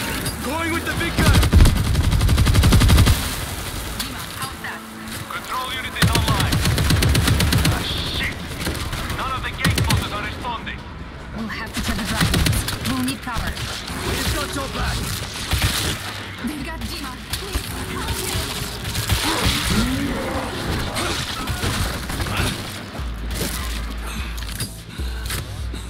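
A heavy weapon fires repeatedly in World War Z: Aftermath, a dense stream of booming shots and mechanical clatter running under loud shouting and game noise.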